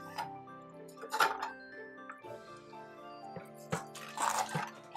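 A bite into a crunchy piece of chopped pickled turnip, squeezed of its water, gives a few close, crisp crunches and clinks over kitchen background, with brief murmured talk.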